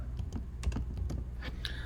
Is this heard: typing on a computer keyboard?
yes